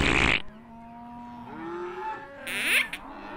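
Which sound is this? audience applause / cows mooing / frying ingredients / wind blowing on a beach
cows mooing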